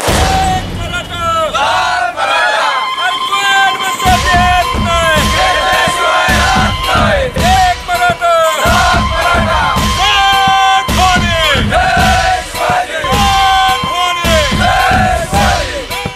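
A large crowd cheers and shouts loudly in sustained chants and yells at a street celebration in Vita, with firecracker bangs breaking through now and then.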